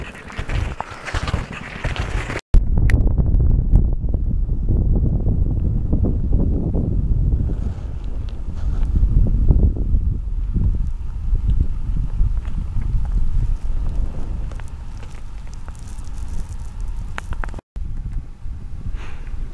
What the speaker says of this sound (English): You can just hear me and my pulka dragging along behind me.